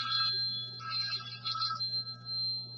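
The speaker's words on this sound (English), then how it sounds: "I got a phone call just then" Telephone ringing with an incoming call, a close electronic ringtone of short repeated high-pitched pulses over a low steady hum, with no talk.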